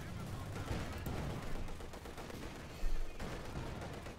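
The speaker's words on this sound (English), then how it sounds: "mortar pounding away with mortar bombs there, whistling through the air" Mortar bombs pound repeatedly in a Company of Heroes 2 battle, mixed with dense small-arms fire and scattered blasts, with a louder impact near the end and a voice talking over the din.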